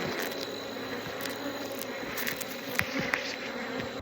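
Honeybees from a beehive hum in a steady, faint, dense drone, with a few brief clicks and no voices.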